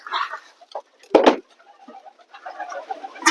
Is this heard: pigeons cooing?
yes